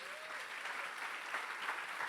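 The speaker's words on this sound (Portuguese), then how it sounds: "Pode aplaudir Jesus." A church congregation applauds during a service, steady dense clapping from many hands filling the room at moderate distance, with a brief faint whistle-like tone near the start.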